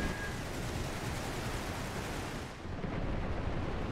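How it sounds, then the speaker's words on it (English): Machine guns opening up in The Great War 6.0, a dense continuous roar of distant gunfire and rumbling battle noise with a brief dip partway through. "Machine guns opening up."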